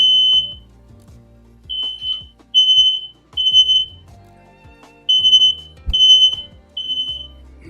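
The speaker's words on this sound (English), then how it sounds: "back to fanning fucking smoke detector" A smoke detector set off during home cooking of crispy parmesan chicken and bacon shrills in repeated loud high beeping bursts, with kitchen clatter and sizzling underneath between the pulses.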